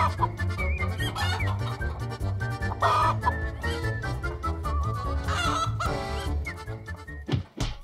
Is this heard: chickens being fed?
yes